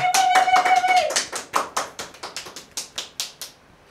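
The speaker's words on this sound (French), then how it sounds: "Applaudissements pour Pamela Woumed." A few hands clap in a steady rhythm, slowing and fading out over several seconds, after a brief electronic tone at the start.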